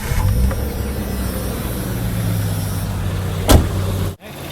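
A 1995 Jeep Cherokee engine idles steadily close by, a low constant drone with a sharp knock near the end before the sound briefly cuts out.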